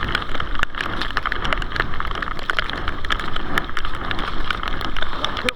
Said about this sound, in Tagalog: Ulan na lang yung natira, ulan.